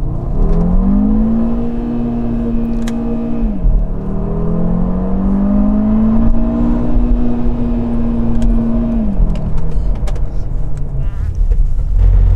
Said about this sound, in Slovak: Ten motor môže byť v obmedzovači